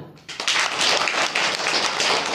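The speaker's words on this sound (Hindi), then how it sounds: "मारो ताली" A room of schoolchildren bursts into clapping together, a loud, ragged run of many hands beating for about two seconds after a short quiet start.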